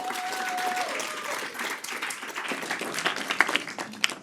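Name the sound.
audience applause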